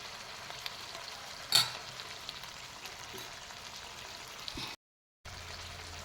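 Fish pieces with mint fry steadily in a pan, a continuous soft sizzle with one brief louder crackle near the start and a short dropout toward the end.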